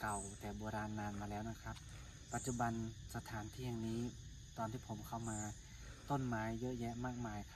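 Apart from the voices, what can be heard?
cicadas singing in trees at a temple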